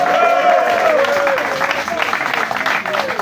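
A crowd at an outdoor political rally in a small market applauds with dense, sustained clapping, while a voice carries on speaking loudly in French over it.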